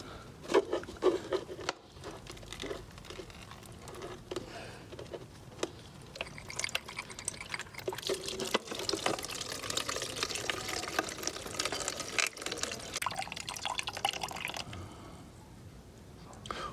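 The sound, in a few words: coolant water draining from BMW F650GS motorcycle radiator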